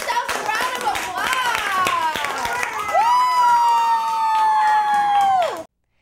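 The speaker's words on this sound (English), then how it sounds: "Give yourselves a round of applause." A class of children claps and cheers in a burst of quick, overlapping hand claps, then high excited voices rise into a long sustained shout before it cuts off abruptly.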